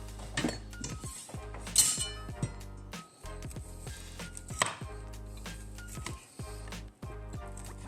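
Steady knife chopping and tapping on a board while cutting chicken pieces, with clinks of utensils and dishes, close by and continuous.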